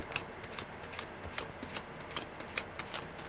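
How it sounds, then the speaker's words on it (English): Tarot cards are shuffled steadily close by, a soft crisp riffling with repeated light slaps, quiet and alone with no talk. "Good shuffles today"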